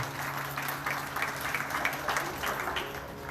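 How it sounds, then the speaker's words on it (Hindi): Devotees at a Shrimad Bhagavat katha in a temple applaud together, a soft continuous wash of many hands clapping at some distance, with a low steady hum underneath and no speech. "सभी भक्त मिलकर महाराज श्री और संगीत साथियों को जोरदार तालियों से धन्यवाद करेंगे।"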